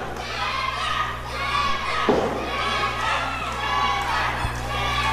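A wrestling crowd at a Trever Aeon vs Mike Posey match keeps up a loud, steady roar of cheering and shouting, with a dull thud from the ring about midway.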